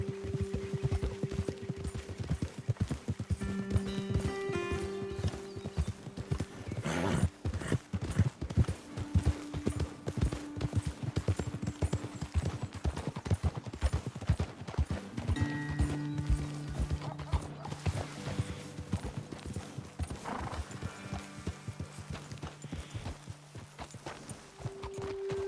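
Rhythmic hoofbeats of galloping horses in Red Dead Redemption II clatter steadily throughout, with occasional horse whinnies and faint musical tones in the background.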